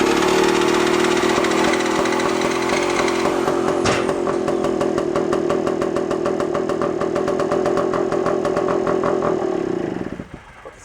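An old Puch Sport moped engine, revived after sitting unused for 22 years, runs with a loud, steady buzzing putter for about ten seconds before abruptly cutting out.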